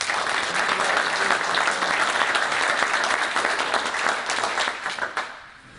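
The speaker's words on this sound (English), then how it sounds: "Another round of applause for everybody" An audience applauds after a panel discussion on commercially ready species, a dense, loud wash of many hands clapping that holds steady, then thins and fades out at the end.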